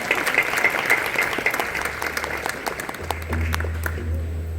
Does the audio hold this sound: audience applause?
yes